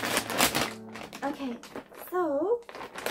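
A plastic clothing shipping package is handled and torn open close up, with loud crinkling and rustling bursts, while someone speaks briefly over the noise.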